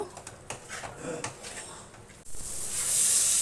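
Spice masala frying with potatoes in a pan gives a soft sizzle, broken by scraping and stirring clicks, then a brighter, louder hiss toward the end. A voice talks quietly over part of it.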